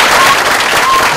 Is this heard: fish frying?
no